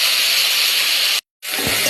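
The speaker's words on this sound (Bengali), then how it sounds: "কড়াইতে তেল গরম হয়ে গেছে। এবার উচ্ছেটা ভাজবো।" Bitter gourd fries in hot oil in a wok with salt and turmeric, giving a loud, steady hiss that cuts out briefly, then resumes.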